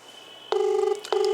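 A ringback tone on an outgoing phone call: a steady electronic tone starts, breaks briefly, then resumes over a faint line hiss.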